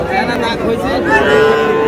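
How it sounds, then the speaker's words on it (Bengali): A young bull calf at a Noakhali cattle market moos close by in a drawn-out call, with people talking and market chatter around it. "ষাঁড় বাচ্চা।"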